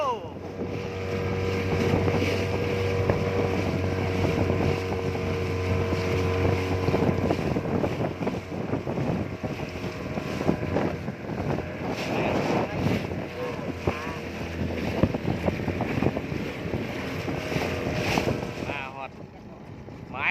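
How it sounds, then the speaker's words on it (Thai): Motorboat engine droning steadily as the boat cruises across a reservoir while fishing, loud and close with wind buffeting the microphone throughout, easing off near the end. "จากการขับเรือมานะครับ"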